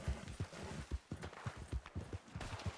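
Horse hooves in Red Dead Redemption 2 Online approach in a quick, uneven patter of soft thuds, close and fairly quiet, without talk.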